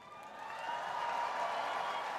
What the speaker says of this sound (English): you already hear the cheering for the Afghan Hound